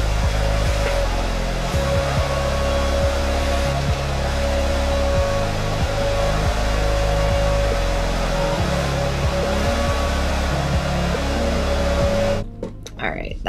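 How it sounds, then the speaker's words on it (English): A hair dryer blows steadily to speed the drying of an acrylic painting, a constant loud whir with a steady tone running nearly unbroken before it cuts off abruptly near the end. "I'm just gonna take a hair dryer and speed up the drying time a little bit"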